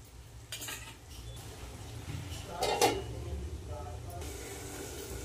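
A lid goes onto a pan of eggplant and potatoes cooking in a little mustard-spiced water, landing with one clear metallic clank over a soft background sizzle and faint shuffling.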